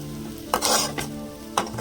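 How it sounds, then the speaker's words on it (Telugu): Ivy gourd pieces cook in a pan over a low flame, with a soft steady sizzle broken by a few sharp stirring scrapes and clinks of a spoon against the pan. "ఇలా సిమ్లోనే పెట్టి ముక్కలన్నీ బాగా మగ్గాలండి"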